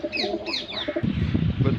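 Pigeons cooing in a group, soft repeated coos mixed with bird calls and a faint human voice, with closer rustling and fluttering noise in the second half.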